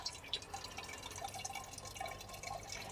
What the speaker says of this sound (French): Ça, c'est un petit robinet, vous le passez là et vous allez récupérer le jus du compost.